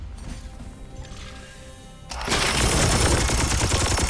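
Heavy gunfire in the turn-based Warhammer 40,000 game Chaos Gate - Daemonhunters bursts in loudly after about two seconds of quieter ambient game sound, then continues as a dense, sustained volley to the end.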